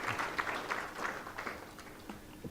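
Sparse applause from a workshop audience, a modest patter of claps at low volume that tapers off over a couple of seconds.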